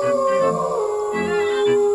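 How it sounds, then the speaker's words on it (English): Howling from a pack of foxes in an animated tale, sustained tonal wails layered over each other, fairly loud and continuous for the whole moment with no talk. "the fox king heard a pack of foxes howling"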